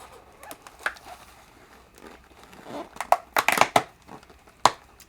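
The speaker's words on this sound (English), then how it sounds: "let's open up box number 1" A box of artisan chocolates is opened, with irregular crinkling and crackling of the packaging in short bursts that grow louder and denser toward the end, close by.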